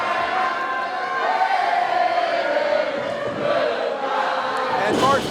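A wrestling arena crowd sings in unison as a wrestler, Mark Fleming, is sent to the back. The chant is steady and sustained, a dense wash of many voices filling the hall at an even, moderately loud level.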